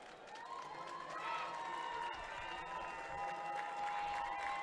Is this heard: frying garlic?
no